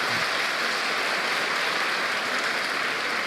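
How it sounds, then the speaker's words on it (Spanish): Steady, dense applause from a church congregation, loud and continuous throughout, with no talking heard. "Dale un aplauso al Señor por ellos."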